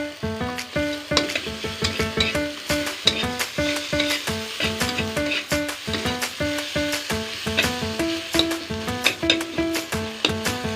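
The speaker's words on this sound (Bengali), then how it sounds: "এবারে সব একসাথে মাখিয়ে নেব। গ্যাসটা একটু কমিয়ে রাখবো।" Ingredients stirred together in a pan over a gas flame turned low for a home-cooked Bengali lunch, with steady sizzling and frequent rhythmic scrapes and clinks of a spatula throughout, close and clear with no talking.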